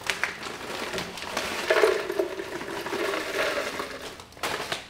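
Water poured over blueberries for a smoothie, a steady splashing and gurgling pour that swells midway and tails off, close and fairly quiet with no talking.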